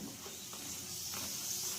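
A soft beetroot paratha with coriander leaves fries in a pan, pressed down on both sides, giving a steady close sizzle and hiss with faint stirring scrapes throughout and no talking.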